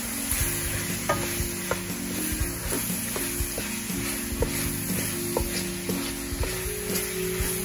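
Shrimp taco ingredients being stirred in a hot pan, a steady bright sizzle with repeated scraping stir strokes and clicks throughout, close and loud, no voices.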